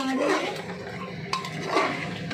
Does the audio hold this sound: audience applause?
no